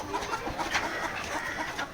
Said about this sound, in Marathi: सर्व अंड्यावर आलेल्या कोंबड्या आहेत इथे